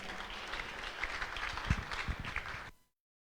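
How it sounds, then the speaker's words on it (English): Audience at a Sunday temple gathering applauds a guest speaker's introduction, a steady wash of clapping with a few louder thumps, continuing for close to three seconds before it cuts off abruptly. "Let's give him a round of applause."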